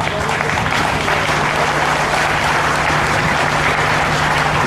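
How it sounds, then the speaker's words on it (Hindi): Sustained applause from an audience at a devotional cow-protection (Gau Katha) gathering, welcoming a speaker being garlanded; dense, steady clapping fills the room with a low hum underneath. "और आप तालियों से स्वागत करें।"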